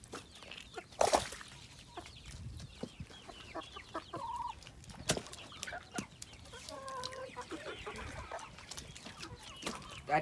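Farm chickens cluck in scattered bursts, with a loud squawk near the start and softer clucking throughout, over quiet outdoor background noise.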